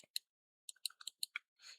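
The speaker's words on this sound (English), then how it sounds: "So my keyboard and mouse might be a bit loud" Keyboard and mouse clicks during a Hive Skywars game session: about eight sharp, quiet ticks in an irregular burst, followed by a brief soft rustle, with no talking.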